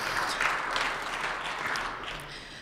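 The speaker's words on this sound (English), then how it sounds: "That also deserves a round of applause." Audience applause at the Baltimore Symphony Orchestra's annual meeting: steady, dense clapping from a sizable crowd, sustained evenly for a few seconds.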